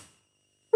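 Dead air on a phone line during a call-in broadcast, then a tone starts abruptly right at the end as the call drops. The tone is steady and pitched, and it follows near-total silence.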